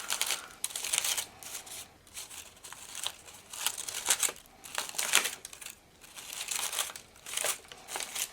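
Close, crisp crinkling of a craft paper treat bag comes in repeated waves of rustling and crumpling, pausing briefly between each squeeze.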